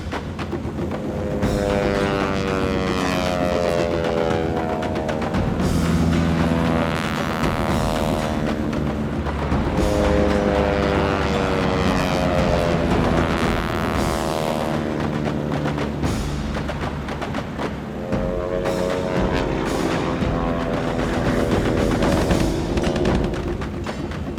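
A WWII training airplane at an aerial gunnery school, its engine droning continuously and loudly with a steady, slowly wavering pitch that swells and fades in long sweeps, heard alone without voices.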